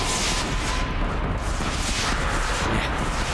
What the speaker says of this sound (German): Okay, noch ein oder zwei Schüsse brauche ich noch.